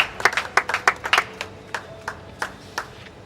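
Scattered hand claps at a foundation celebration, a burst of several quick claps at first then thinning to sparse, separated claps, moderately close.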